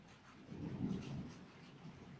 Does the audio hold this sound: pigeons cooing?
no